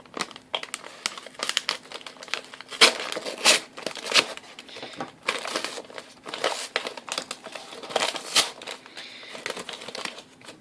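Paper bag packaging of a Canadian IMP ration being torn and crinkled open up close, in irregular bursts of rustling and ripping for about ten seconds.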